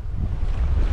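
Wind and sea wash surround a sailboat crossing the ocean under full sail, a steady low rushing roar with buffeting gusts on the microphone.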